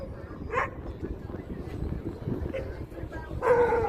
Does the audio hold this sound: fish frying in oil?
no